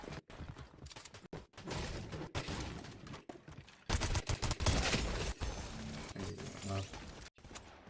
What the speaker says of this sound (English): That's gunshots over there.